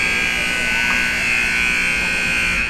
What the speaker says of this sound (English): there's the buzzer for the first period